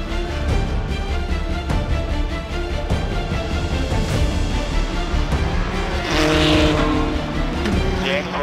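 A Ferrari 488 race car run by Risi Competizione roars around the high banks of Daytona during the Rolex 24, a loud continuous engine drone that swells as it passes, with voices over it.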